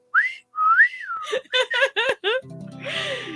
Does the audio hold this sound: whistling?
yes